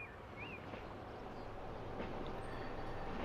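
A train runs along its track in the video game Transport Fever 2, a steady low rumble with faint rattling, continuous and moderately distant, with brief high tones drifting above.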